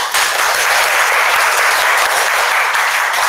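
Audience applause at a graduation exhibition lecture, dense steady clapping filling the room at full volume throughout, with no voices over it.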